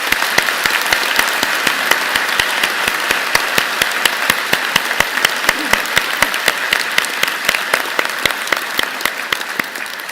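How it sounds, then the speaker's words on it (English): A large audience at a university spring convocation applauds steadily, a dense wash of clapping with sharp individual claps standing out, sustained at an even level throughout. "join me and the platform party in thanking them with a vigorous round of applause."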